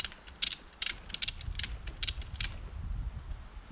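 A ratchet latch being cranked to tighten the strap of a tree tent outdoors, giving a string of sharp metallic clicks in an uneven rhythm, close and moderately loud over a low rustling background.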